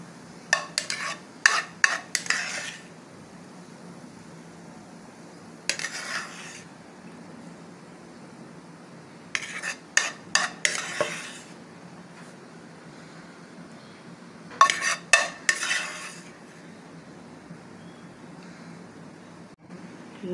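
An egg and potato omelette being served out of a pan, heard as several short bursts of scraping and clinking from a spatula against the pan, separated by quiet pauses.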